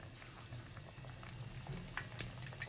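Battered potato pakoras fry in hot oil, giving a soft, even bubbling sizzle with faint crackles and pops throughout, close by and quiet, with no talking.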